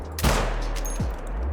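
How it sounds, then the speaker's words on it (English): Two 6.5 Creedmoor rifle shots fired in a hunting game, a sharp loud crack with a booming tail followed about three quarters of a second later by a second, softer report, no voices. "that first shot must have instantly dropped him, so that second shot probably did nothing"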